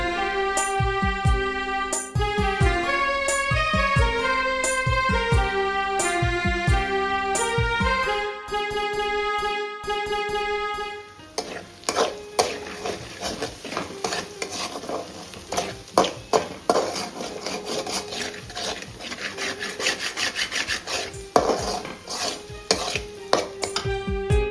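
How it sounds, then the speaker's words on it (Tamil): Tomato thokku with coriander and curry leaves is stirred in a pan: after a stretch of melodic music, repeated scrapes, clinks and knocks of a utensil against the pan come in irregular bursts, close and clear. "அப்படி பிரிஞ்சு வரும்போது கொத்தமல்லி, கருவேப்பிலை போட்டு கொஞ்சம் மிக்ஸ் பண்ணிக்கோங்க"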